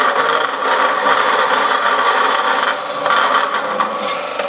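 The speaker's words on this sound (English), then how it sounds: "within a couple of seconds, you've cut off a little piece of tube" A lubricated cut-off saw blade grinds steadily through a piece of metal tube, giving a loud, continuous rasping whine up close with no pauses.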